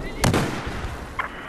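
A single grenade explosion in the video game Battlefield 4: one short, sharp blast followed by a fainter pop, quick and fairly quiet overall.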